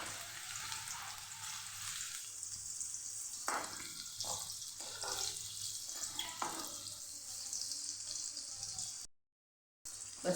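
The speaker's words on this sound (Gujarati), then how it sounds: "તો કળીઓને આપણે સાતળી લેવાની છે. બ્રાઉન કલરની થાય ને ત્યાં સુધી આપણે લસણને સાતળવાનું." Garlic cloves fry in hot oil for a Gujarati onion, garlic and tomato chutney, a soft continuous sizzle with a few brief clatters of stirring, faint and close, with a short dropout near the end.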